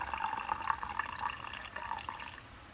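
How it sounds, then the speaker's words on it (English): Filtered water from a ceramic Berkey filter pours steadily into a canning jar, a continuous close splashing trickle with faint drips that runs for nearly three seconds, with no talking. "we're going to pour the water right up to the neck of the jar,"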